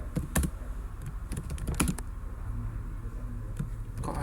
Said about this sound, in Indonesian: Kok harus mengetik?